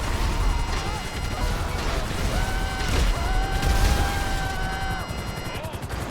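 A Sparrow helicopter in GTA 5 Online fires a rapid volley of missiles, producing loud repeated blasts and crashing explosions over rotor noise, with voices talking throughout.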